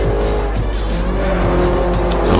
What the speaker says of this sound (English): I'm driving an E275 configuration of Alfa Romeo's Montreal